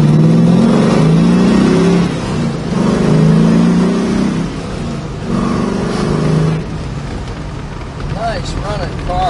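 A 1969 Chevrolet Camaro with a six-speed gearbox accelerates on a drive, its engine rising in loud, close revving surges with brief easing between pulls, and a voice speaking over it near the end.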